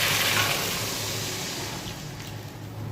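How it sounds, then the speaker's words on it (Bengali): Water poured steadily into cooked-down masala in a pan for a pabda fish curry gravy, a close, continuous rushing splash that eases slightly toward the end. "চলো এবার জলটা দিয়ে দিচ্ছি ঝোলের জন্য।"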